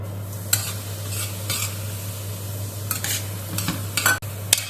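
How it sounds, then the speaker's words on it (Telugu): Semolina (Bombay rava) frying in hot ghee for rava ladoo, with a steady low sizzle under repeated scraping stirs of a spoon against the pan, close and clear. "రవ్వ చక్కగా ఇట్లా ఫ్రై అయిందండి."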